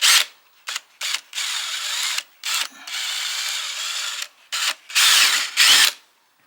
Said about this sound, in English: I went ahead and laid out the lines that I'm going to use to cut and drill.